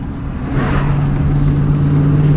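A car drives uphill into Cranberry Valley on Salt Spring Island, its engine making a steady, close, moderately loud hum over road noise.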